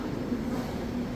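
The 12962 Avantika Express passenger train, running between Indore and Mumbai, gives a brief, steady low rumble of rolling rail noise heard from on board.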